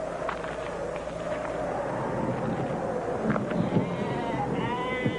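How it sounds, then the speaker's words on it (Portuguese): Sheep bleat near a resting flock of about thirty lying on warm ground beside a shepherd, with several wavering bleats rising toward the end over steady wind and outdoor noise. "Cerca de 30 ovelhas descansavam perto dele, deitadas no solo quente."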